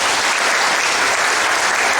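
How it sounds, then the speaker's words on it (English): Loud, dense applause from a crowd at a volunteer meeting, continuous clapping with no pauses or voices. "But I'd like to give Karen a round of applause."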